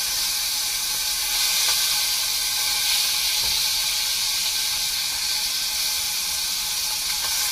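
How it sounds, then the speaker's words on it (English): Peppercorn-crusted pork tenderloin sears in hot oil in a pan, giving a continuous, even sizzling hiss with no voices. "I'm going to give this a couple more minutes on the oil on the other side"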